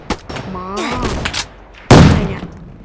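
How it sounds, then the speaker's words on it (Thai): Gunfire in a Roblox game: a few sharp shots and a loud blast over background sounds, with a voice talking in the mix. "เสียงปืนเสียงปืน"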